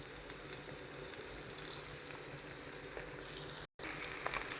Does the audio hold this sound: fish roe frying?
yes